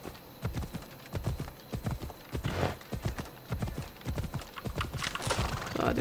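Horse hooves clip-clopping at a steady gallop in Assassin's Creed Odyssey, with neighing mixed in, loud and continuous throughout.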